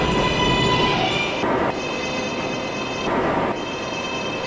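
A New York subway 7 train running, with a steady rumbling ride and high tonal whine from the motors, the tone dropping out briefly twice before resuming.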